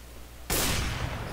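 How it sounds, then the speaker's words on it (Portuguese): A sudden loud burst of gunfire from Counter-Strike: Global Offensive erupts after a quiet moment and sustains as a dense, rattling barrage up close. "Ele tá descendo tiro aqui, ó."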